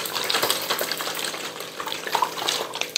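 A closed container of bubble gum scented carp bait mix being shaken: a continuous, dense, rattling swish that stays steady and close for a few seconds, with no voices.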